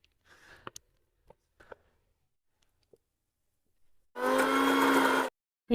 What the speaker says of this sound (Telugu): కలగలిపిన చింతకాయను పండు మిరపకాయలు ఇప్పుడు మళ్ళీ మిక్సీ పడతాను